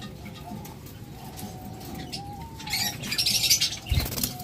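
Caged lovebirds, a green opaline and an Ewing female, give soft chirps and coos over a steady background hiss, with brief wing flaps and a brighter chattering burst near the end.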